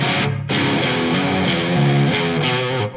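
Heavy distorted electric guitar played through a NUX Solid Studio amp modeller on its Grunge 59 plexi setting, thick sustained chords and riffing, loud and continuous with no talking.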